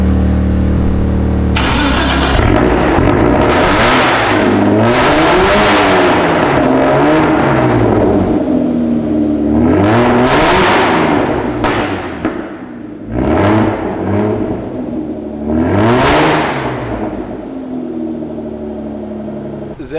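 A supercharged Jaguar XJR engine starts and revs repeatedly, loud and close, with rising and falling rev sweeps and a rough, raw tone, some blips short and others held longer, with no talking over it.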